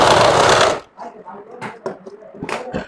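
An electric sewing machine runs in a dense, loud burst while stitching a kameez, then stops abruptly, leaving scattered soft handling clicks and rustles of fabric.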